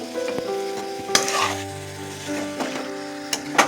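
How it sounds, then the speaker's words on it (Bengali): Masala spices fry in a pan for a chicken curry with leg pieces, sizzling loudly and constantly up close, with a few sharp spits and scrapes punctuating the steady hiss. "ওখানে মশলা কষানো হয়ে গেছে, মাত্র মশলা দেওয়া হলো।"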